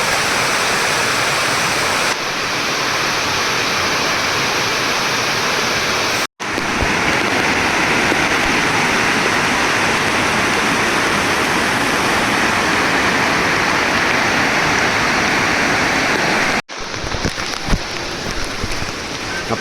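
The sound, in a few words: heavy rain pouring at Marleshwar temple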